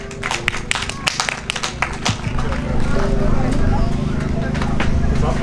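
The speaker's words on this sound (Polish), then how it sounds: "Brawa, brawa jeszcze raz wielkie!" At a cycling-challenge award ceremony, a crowd breaks into applause that starts as sparse, separate claps and swells into a denser, louder round, with voices and background tones underneath.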